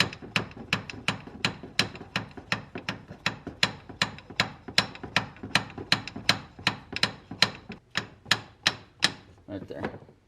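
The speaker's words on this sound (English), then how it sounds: "if it's a tight fit, just give it a couple of taps" A Borgeson steering shaft for a 1980-1996 Ford Bronco or F-150 is tapped onto its splines in a long, evenly paced series of sharp metallic knocks, about two per second, close and fairly loud, with no talking.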